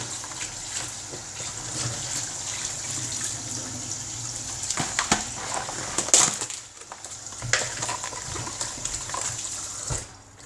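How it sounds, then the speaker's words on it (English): Chicken thighs and drumsticks are rinsed under a steady, moderate stream of kitchen tap water, with a continuous hiss of running water broken by a few louder splashes and thumps as the pieces are handled. "So give it a quick rinse under the water."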